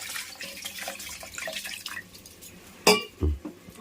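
Water is poured into a mixer jar to rinse out leftover ground coriander masala paste while cooking onion sambar, with a brief splashy pour and a few clinks of the jar after steady kitchen noise. No one speaks.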